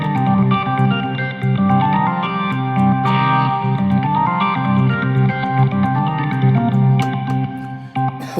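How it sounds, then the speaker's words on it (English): A ToneStack classic rock organ sounds through a plate reverb, steady sustained chords with a moving low line and occasional brighter accents, full and close throughout without speech. "it's a really beautiful reverb"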